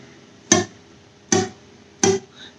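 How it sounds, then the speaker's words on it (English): An acoustic guitar string is plucked three times while held loosely without fretting pressure, giving short, dull, percussive muted clicks spaced evenly apart, close and quiet with no talking. "If you kind of held it loose and apply no force, you're going to get a sound something like this."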